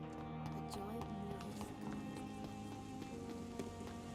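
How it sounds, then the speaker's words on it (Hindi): Steady rain falls on surfaces outside a hospital in London in the video game Vampyr, a constant patter with scattered heavier drops, with faint voices at times beneath it. "बारिश अब तक बंद नहीं हुआ।"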